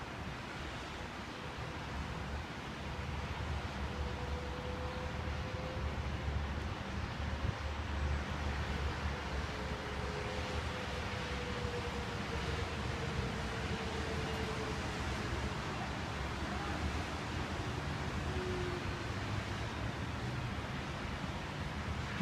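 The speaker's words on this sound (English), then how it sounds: "Lots of blowing wind." Strong wind blowing during a severe thunderstorm, a continuous broad rushing roar with heavy low rumble from gusts buffeting the microphone, steady and unbroken for the whole stretch.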